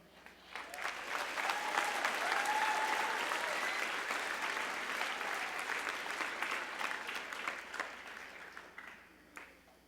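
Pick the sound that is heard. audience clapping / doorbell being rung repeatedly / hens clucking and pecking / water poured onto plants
audience clapping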